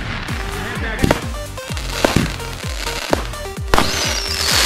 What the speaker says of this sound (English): Oh, oh, another early explosion there.